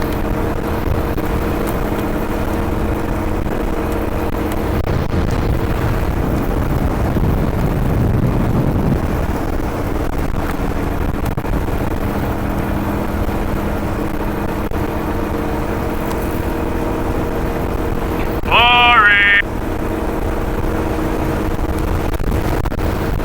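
Strong wind buffets a microphone on a coastal road by the sea at night, a steady loud rumble throughout with one brief higher whine near the end.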